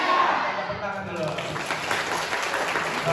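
Students at a youth exchange gathering at a high school in Pulau Laut Tengah, Indonesia, clap briefly in a burst of close applause, with some talk over it.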